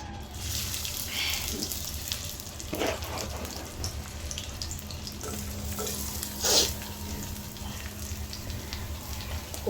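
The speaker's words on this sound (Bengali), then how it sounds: "অল্প করে চিংড়ি ভুনা।" Shrimp stir-fried in a kadai with a little oil for a dry bhuna. A steady, moderate sizzle runs throughout, with occasional scraping and clinking of the spatula against the pan and no talking.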